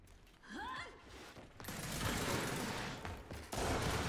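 Rapid bursts of gunfire from the video game Gears 5 rattle out in a dense, sustained volley, following a brief whooshing effect, loud and continuous through most of the moment.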